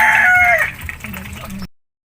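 A rooster crows once in a backyard garden, loud and close with a long strained call, followed by softer clucking and low murmurs from chickens and ducks before the sound cuts off.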